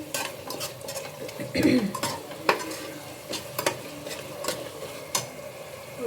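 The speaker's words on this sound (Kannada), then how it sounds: "ಟೊಮೆಟೊ ತುಂಬ ಚೆನ್ನಾಗಿ ಸ್ಮ್ಯಾಶ್ ಆಗಬೇಕು, ಅಂದರೆ ಸಾಫ್ಟ್ ಆಗಬೇಕು. ಸೊ ಅಲ್ಲಿವರೆಗೂ ಚೆನ್ನಾಗಿ ಫ್ರೈ ಮಾಡ್ಕೊಳ್ಳಿ" Tomatoes fry in a pan until soft for tamatobath, a low steady sizzle under repeated scrapes and clinks of a spoon stirring against the metal, with a few sharper knocks.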